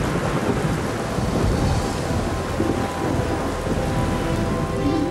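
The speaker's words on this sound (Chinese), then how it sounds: "这一天天空下着雨，行人撑伞赶路" Heavy rain falls steadily over a city street on a wet afternoon, a loud, dense hiss of drops with low rumbling thunder rolling underneath and no voices.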